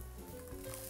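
Chili and onion sizzle and hiss in a hot wok, a steady close frying crackle that runs throughout the short moment with no talk.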